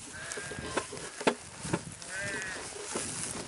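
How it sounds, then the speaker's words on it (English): Sheep bleat near a hillside spring water supply, a couple of wavering calls at a moderate distance over outdoor background noise, with a few soft thumps between them. "The sheep wander down here"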